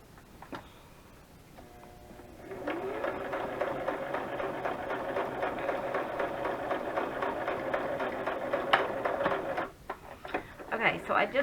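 A sewing machine runs a long, steady stitching pass on a junk journal tag, a close rapid mechanical whir-and-tick lasting several seconds before stopping, followed by clattery handling noises.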